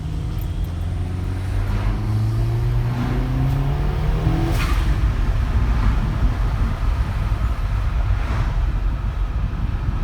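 Audi A4 B8 fitted with a diverter valve spacer accelerating from a stop to 40 mph, engine note rising through gear changes in a steady drone from inside the car, with heavy rumble and wind noise throughout; no talking.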